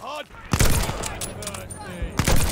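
Gunfire in Call of Duty: Vanguard rings out in loud bursts, with a fusillade of shots at about half a second and another near the end, while a voice talks over the game audio.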